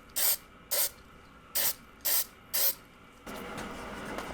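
Aerosol lacquer sprayed inside a wooden puzzle box in short hissing bursts, five quick sprays about half a second each, followed by a longer continuous spray, close and fairly loud.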